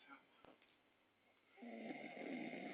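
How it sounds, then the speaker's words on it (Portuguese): A man snores in a quiet room in the early hours: a low, rough snore swells in the second half, near and fairly faint, with no talk over it. "Ele ronca muito feio."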